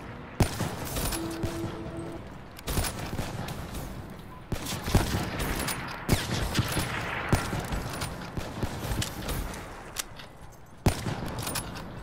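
Gunfire in Black Ops 3, a free-for-all match: sharp shots and short bursts scattered across the scene, some close and loud, others in quicker volleys, over steady game ambience.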